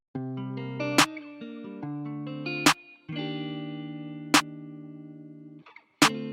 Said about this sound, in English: What I then did was I layered it together with this snare right here